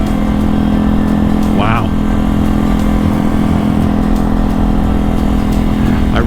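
A motorcycle engine runs close by with a steady, loud mechanical drone throughout, under brief exclamations from a voice.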